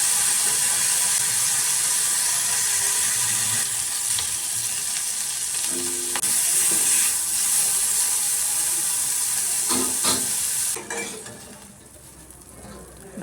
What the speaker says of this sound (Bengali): একটু নেড়ে চেড়ে মাছগুলোকে হালকাভাবে ভাজবো